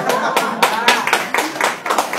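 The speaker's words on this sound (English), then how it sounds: "talia means clapping" A crowd claps at a direct selling business talk, a loud, steady run of sharp hand claps that fills the room without pause.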